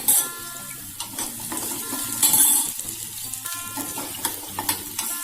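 A ground spice mixture for rasam frying in a hot pan, bright crackling sizzle with spoon scrapes and light metallic clinks, close and fairly loud, no talking.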